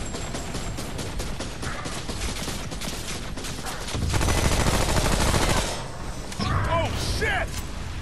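Turret fire from Remnant: From the Ashes runs as a dense, steady stream of rapid shots across the whole stretch, swelling louder midway, amid other game noise and some voice.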